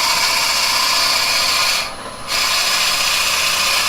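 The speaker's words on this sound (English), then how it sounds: "This is a pretty good drill for clearing out the swath." A drill boring into wood on a lathe grinds steadily and loudly at close range, with a brief dip partway through before the steady cutting noise resumes.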